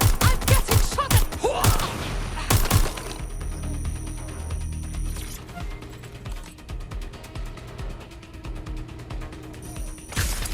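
Gunfire in the video game Watch Dogs: Legion, with loud rapid bursts and sharp shots at the start, then a steadier mechanical rattle of continued shooting under a dense game soundscape, with another burst near the end.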